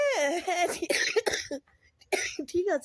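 A person talks, breaking off for a brief rough cough in the middle before speaking again.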